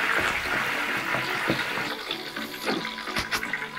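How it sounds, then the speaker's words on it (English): Halloumi fries sizzle and bubble vigorously in hot frying oil, a dense, continuous hiss with scattered sharper pops and spits, heard up close. "the oil goes a bit mental. I suppose it's all the water content in the cheese, it's all bubbling away there"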